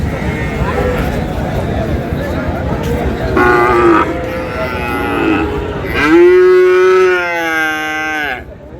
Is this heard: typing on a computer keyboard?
no